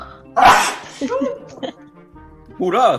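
A single sharp sneeze bursts out amid lively conversation in a French studio, with voices talking before and after it.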